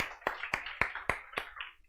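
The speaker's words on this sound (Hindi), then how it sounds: "ताली बजाओ इस बच्चे के लिए" A class claps in a steady, even rhythm for a student, seven quick, fairly close claps in a row that stop after about two seconds, with no talking over them.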